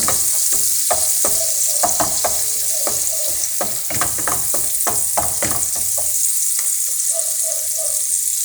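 Kimchi fried rice with sliced beef stirred in a pan, a bright constant sizzle under rapid rhythmic scraping and tossing strokes, close and fairly loud, easing to sizzle with a few light taps at the end.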